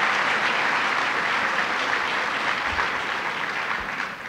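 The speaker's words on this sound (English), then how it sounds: "So let's give a round of applause." Breakfast crowd at a New York Stands with Puerto Rico event applauds in a sustained, even roar of many hands with no speech over it.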